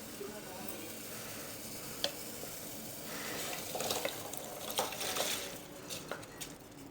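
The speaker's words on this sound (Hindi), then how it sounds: "ये देखिए पानी बॉयल होना स्टार्ट हो गया है।" Water coming to a boil in a pot for rice on a home stove, a steady bubbling hiss with occasional louder pops and gurgles, close by.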